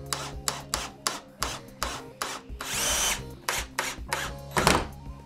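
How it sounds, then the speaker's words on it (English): A power drill drives a screw through styrofoam into the frame of a model railroad layout, giving repeated short, loud whirring bursts with a longer sustained spin midway, close up and without speech. "I'm gonna send this screw all the way through the styrofoam and into the frame"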